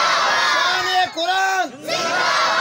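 A large crowd at a Quran conference roars back in unison in response to the Takbeer slogan, a loud sustained chorus of voices that dips briefly and then surges again.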